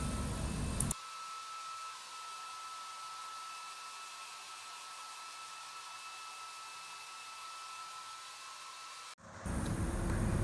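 A hair dryer blows with a steady, even whoosh for several seconds, starting and stopping abruptly with louder noise at either end.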